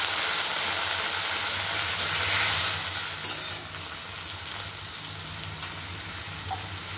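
Water poured into a hot kadai of frying chicken with cashews bursts into a loud, bright sizzle that swells, then settles into a softer steady hiss and bubbling as it simmers, with no talking.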